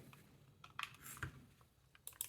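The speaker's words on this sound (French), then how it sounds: "Le clic droite et gauche ne font pas le même bruit." Computer mouse buttons clicked near a microphone, left and right in turn, giving a handful of sharp, separate clicks at uneven intervals over quiet background.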